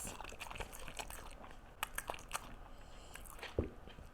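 Dogs chewing Halloween treats: close crunching and biting with irregular snaps and crackles over a few seconds, at fairly low volume and with no speech.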